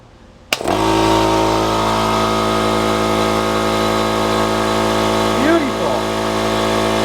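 A Chinese-made air compressor pump switches on from near silence and settles into a loud, steady mechanical drone with a constant hum during its break-in run, with a brief rising whine partway through.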